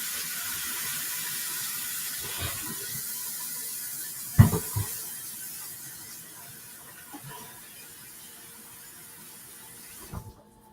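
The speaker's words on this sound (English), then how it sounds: "Let me wash my hands." Hands are washed under a running kitchen tap, a steady hiss of water with a few clunks and splashes, fading toward the end, with no talk.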